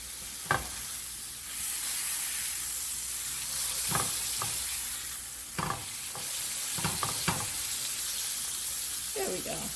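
Turkey burgers with spinach and feta sizzle steadily in a heated pan, a constant close frying hiss broken by a few sharp clinks and scrapes of a utensil.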